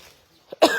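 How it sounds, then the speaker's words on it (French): A single sharp cough close to the microphone, preceded by a faint intake of breath, in an outdoor setting. "Je tousse moins que hier."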